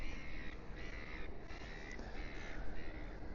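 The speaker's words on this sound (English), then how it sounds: "I see that my seagulls are here as well this morning." Gulls calling at Sydney Harbour in the morning, with repeated cries in several bursts over steady loud wind and water noise across the whole stretch.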